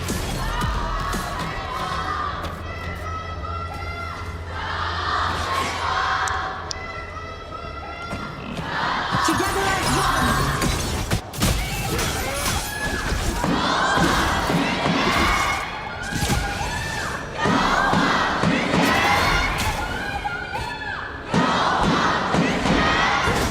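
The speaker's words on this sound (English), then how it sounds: "everyone just use your loudest voice, cheer up for your favorite team" Large esports arena crowd at a grand final cheering and shouting loudly, a dense roar of many voices with thumps and bursts of yelling rising and falling throughout.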